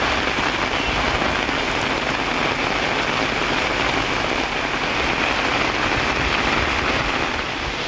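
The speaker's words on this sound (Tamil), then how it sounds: "திடீரென பெய்த கனமழை காரணமாக பொதுமக்கள் மகிழ்ச்சியடைந்தனர்" Sudden heavy rain pours down during hot weather in a Tamil Nadu town, a steady, loud, dense hiss of drops beating on surfaces that holds even for the full stretch, with no voices.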